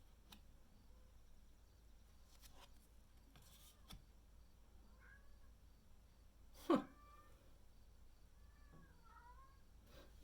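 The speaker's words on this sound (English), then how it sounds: "Hear my cat outside asking to come in." A cat meows a few times from outside a house, soft and muffled, with quiet pauses between the calls.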